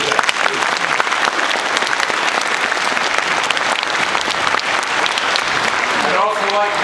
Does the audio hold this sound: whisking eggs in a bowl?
no